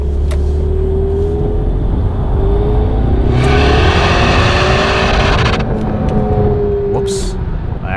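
A 2.3L EcoBoost Ford Mustang accelerates hard under full throttle, its engine droning loudly up through the revs before bouncing off the rev limiter in rapid stuttering cuts, heard close from inside the car.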